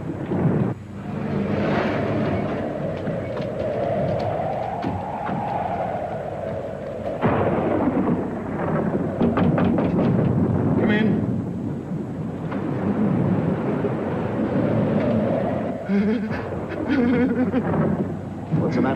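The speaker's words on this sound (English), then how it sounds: "It was probably just the lightning in the storm, Pierre." Thunder rumbles and wind roars in a 1957 film storm, a deep continuous rolling rumble with surging gusts and louder crashes, while voices talk over it.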